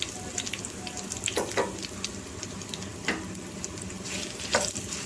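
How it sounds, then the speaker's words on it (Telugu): Turmeric being stirred into a sizzling curry leaf tempering for pachi pulusu, a steady close crackle of hot oil with spoon scrapes and clatters against the pan throughout, no voices. "పసుపు కూడా వేసేసి ఒకసారి కలిపేసుకుందాం"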